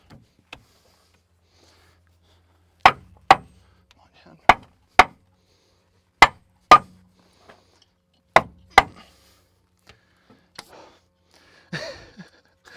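A hammer knocks a part into place during the restoration of an FV432 armoured vehicle, sharp metallic strikes landing in three pairs, close and loud against a quiet background, with faint talk near the end.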